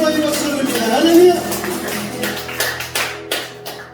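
Church congregation clapping together during a Wednesday worship service, a run of sharp hand claps building over a sustained organ or keyboard tone and a fading voice, claps growing louder and more distinct toward the end.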